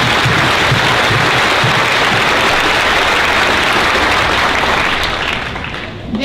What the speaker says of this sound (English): Let's give these outstanding faculty members one more round of applause.